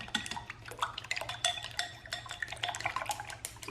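A chopstick beats eggs for orange pecan French toast in a bowl, producing quick, irregular clicks and wet tapping against the dish, close and moderately quiet, with a low hum in the background.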